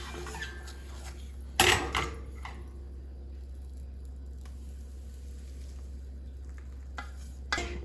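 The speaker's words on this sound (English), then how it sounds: "We're going to stir this a couple more times now that it's in the bowl." A spoon stirs a browned cookie mixture in a heat-proof bowl, making soft scraping and a couple of sharper clinks against the bowl over a quiet steady hum.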